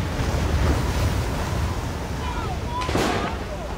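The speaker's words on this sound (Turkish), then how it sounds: "O sırada tekne kıyıdan bir hayli uzakta dalgalarla boğuşuyordu. Çünkü rüzgar karşı yönden esiyordu." Wind and waves buffet a boat far out from the shore of a lake, with a steady roaring rush of surf and gusts, and a sharper splash near the end.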